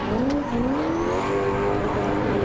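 A supercharged LSX-swapped Toyota Supra drift car on a qualifying run at Baypark Stadium, its engine holding a loud, continuous droning tone that wavers and climbs slightly with throttle, heard from a distance with no talk.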